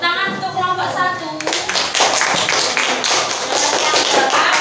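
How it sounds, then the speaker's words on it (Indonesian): Group applause for a class team at a teacher training session, hands clapping in a busy burst that starts near and loud after a moment of talk and continues steadily to the end. "tepuk tangan untuk kelompok 1"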